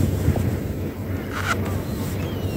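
A mud weight dropping over the side of a boat on the Norfolk Broads into the water, a brief splashy rush near the middle over steady wind and water noise.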